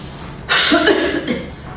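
A single forceful, breathy cough-like burst of air, close and fairly loud, trailing off into a softer exhale, from a person doing a breathing exercise for breathlessness.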